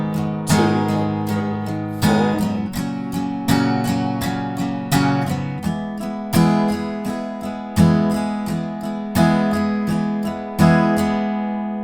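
Acoustic guitar strums the verse chords of a song in a steady down-up pattern, loud and close, with chord changes every couple of seconds and a final chord ringing out.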